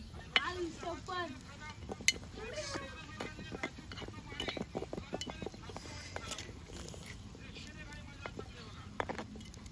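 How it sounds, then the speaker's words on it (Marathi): A spoon scrapes and clinks around a pot of pasta on a wood-fired stove in irregular strokes while a person talks over it, with a faint sizzle underneath. "मस्त पैकी हलवायचं आहे"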